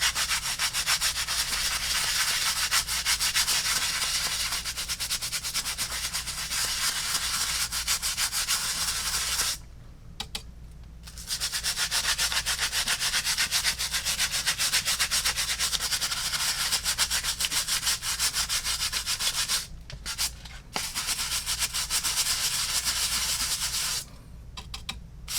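A stiff bristle brush scrubs a tough Chaco sandal, giving continuous loud, close, rhythmic scratchy rubbing strokes that stop briefly three times before resuming.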